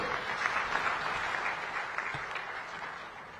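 Large conference audience at a heads-of-state summit applauds, a dense even wash of clapping heard from a distance, steady and fairly soft throughout with no speech over it.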